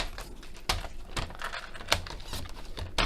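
A paper trimmer cutting card for craft scene builders gives close, sharp clicks and slicing swipes at uneven intervals, several distinct strokes over a few seconds with no talking.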